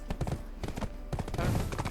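A horse's hooves clip-clop at a steady walking rhythm in Black Desert Online, close and moderately loud, with a brief flurry of busier steps near the end.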